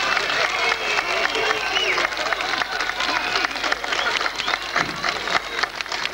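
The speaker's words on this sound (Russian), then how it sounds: "Давайте своими аплодисментами поздравим его с этим замечательным праздником!" A concert audience of the Black Sea Fleet Ensemble in Krasnodar applauds a performer's birthday with loud, continuous clapping from many hands, swelling and varying slightly in intensity across the stretch.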